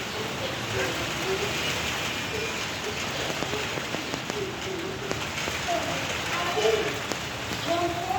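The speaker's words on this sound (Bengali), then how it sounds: "এই যে বৃষ্টি আসবে, বৃষ্টি আসতেছে, ফোঁটা পড়তেছে" Rain begins falling after a hot spell under dark storm clouds, a steady hiss of drops hitting surfaces with occasional distant bird calls and faint voices in the background.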